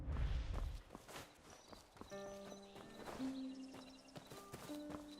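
Horse hooves clopping at a walk in a video game, steady repeated clops close by amid ambient game sounds and musical tones, with a brief low rumble at the start and no talk.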